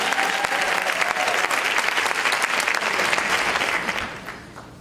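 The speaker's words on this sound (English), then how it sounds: "give her another round of applause" A large crowd at an Alpha Kappa Alpha sorority gathering breaks into loud, dense applause that holds steadily for about four seconds, then tapers off toward the end.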